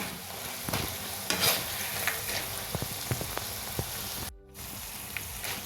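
Cheese shankarpali deep-fry in hot oil with a constant bubbling hiss and light crackle, stirred now and then with soft scrapes; the sizzle drops out briefly before resuming, and no one speaks.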